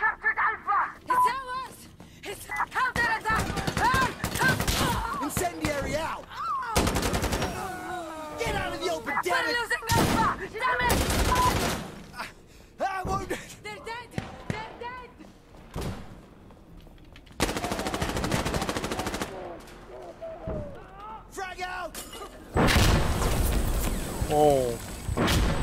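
Gunfire rattles through a round of the shooter game Insurgency Sandstorm, with repeated sharp bursts and rapid volleys, some close and loud, broken by short lulls while a player talks over the shooting.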